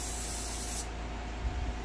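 Airbrush spraying camouflage paint on a Dragon Elefant model tank with Zimmerit, a short close hiss that cuts off partway, followed by faint low handling noise.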